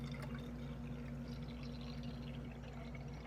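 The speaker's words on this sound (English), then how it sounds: "So we're going to pour some peroxide in there." Hydrogen peroxide is poured into a container, a faint steady liquid trickle over a low hum, with no voices.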